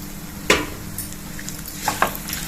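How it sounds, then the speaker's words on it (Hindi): Spices with coriander powder and turmeric fry quietly in a pan, a soft steady sizzle broken by a few light scrapes of a spoon being stirred through them. "सभी मसाले अच्छी तरह से भून लेंगे।"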